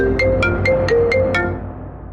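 A phone ringtone sounds for an incoming call, a repeating electronic melody of about six bright tonal notes over a steady background hum, with no talking.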